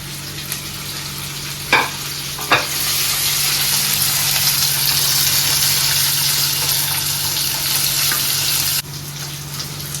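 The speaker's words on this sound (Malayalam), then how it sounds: "ക്യാരറ്റ് ഇട്ട് വഴറ്റാം" Carrots sauté in hot oil, sizzling steadily and loudly in a pan after a couple of sharp utensil clanks, the frying hiss holding for several seconds before cutting off.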